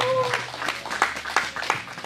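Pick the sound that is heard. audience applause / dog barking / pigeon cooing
audience applause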